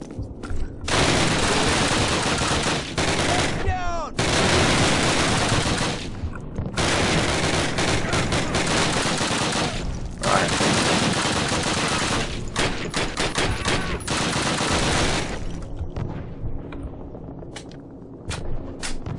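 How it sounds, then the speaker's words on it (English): Sustained bursts of MG42 machine gun fire in Call of Duty blaze loudly and almost continuously, with short gaps between volleys and sparser shots trailing off near the end. "Oh, there's an MG42 there."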